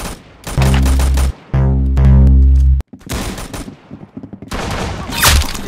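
Automatic gunfire in the Roblox Arsenal video game, two loud sustained bursts followed by a sharp crack and scattered shots, close and dominant with no voices.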